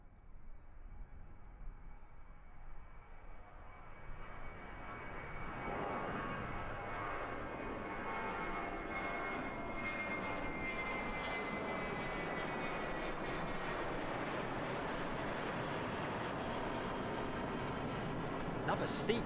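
An Airbus A320 airliner takes off and climbs steeply away from Christchurch Airport in New Zealand, its jet engine roar swelling from moderate to a loud, sustained, broad rumble that holds steady to the end.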